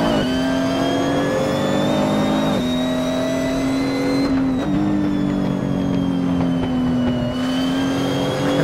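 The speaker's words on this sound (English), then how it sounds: "See the backfires of this car." Nissan GTR in a racing video game revving hard through sequential gear shifts, loud engine whine stepping up and dropping with sharp changes, punctuated by crackling backfire pops between shifts.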